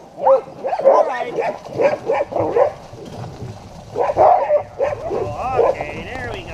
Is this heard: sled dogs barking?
yes